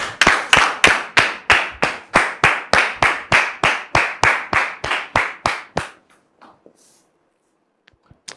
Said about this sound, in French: Merci de le recevoir sous vos applaudissements,